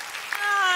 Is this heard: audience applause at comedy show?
yes